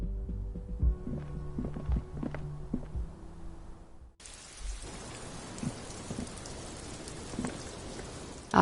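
Rain from the video game Disco Elysium falls as a dense, steady hiss of drops on surfaces, following an opening stretch of game music and sound effects, with occasional louder drips or knocks.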